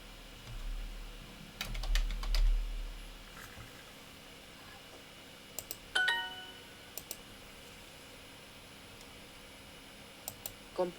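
Computer keyboard typing at a desk, with short bursts of faint clicking keystrokes separated by quiet pauses, close to the microphone over a low background hiss, with no talk.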